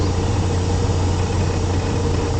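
Semi truck diesel engine with an 18-speed manual transmission, a loud, steady low rumble close up as the clutch is slowly let out to pull away.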